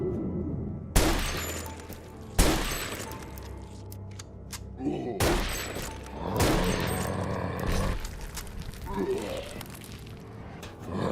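Grenades blow up with sharp, loud blasts in SOE 64 Zombies Mode, a retro-styled shooter, three hard bursts spread across the stretch with rumbling debris and game noise between, while a player talks over the action.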